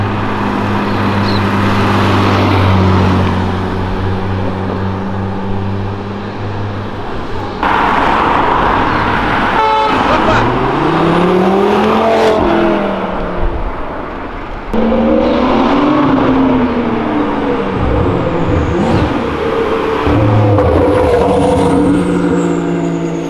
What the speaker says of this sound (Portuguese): Demais esses roncos, velho.